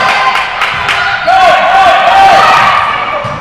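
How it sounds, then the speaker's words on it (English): Crowd noise at a varsity girls' basketball game between Brooklyn Friends and Rudolph Steiner, a steady loud roar of fans cheering and yelling in a gym, with whistle-like tones and shouts throughout. "A loud crowd now for Steiner."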